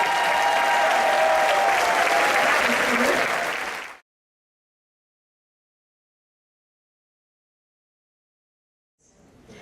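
A concert audience at a dance festival gives a loud, full round of applause for about four seconds before it cuts off abruptly into silence, with faint sound returning at the end.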